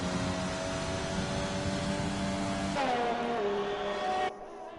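Race car engine in a racing video game at the Hungary track, a steady loud drone that abruptly drops in pitch as the car brakes, then fades away.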